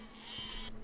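Sheep bleating inside the physics-building game Besiege, a single drawn-out bleat rising over a steady hum of game background, close and moderately loud, lasting under a second.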